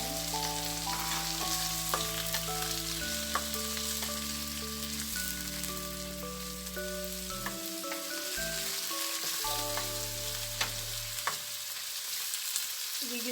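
Squid sautéing in a hot pan for adobo, a steady close sizzle and crackle running the whole time with occasional sharp pops and stirring scrapes, under soft background music with no talking.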